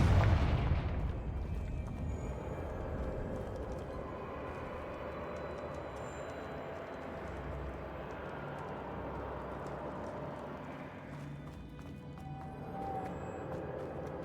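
A Confringo spell explosion in Hogwarts Legacy bursts loudly at the start, then settles into a long, low, rumbling tail under the game's ambient sound.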